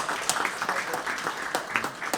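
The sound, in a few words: audience applause at NGO forum anniversary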